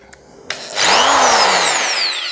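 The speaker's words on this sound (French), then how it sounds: "Un bon coup de perceuse, ça marche très bien aussi." A power drill bites into a hard disk to destroy it: a brief knock, then a loud, steady high-pitched whine with rising tones as the bit grinds through the drive, heard close up.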